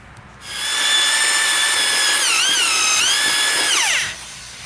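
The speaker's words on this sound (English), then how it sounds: "And now, just using this drill just for a little bit" Power drill with a mulching attachment churning material in a 5-gallon bucket, a loud, close motor whine that spins up, holds steady, dips in pitch twice under load, then winds down.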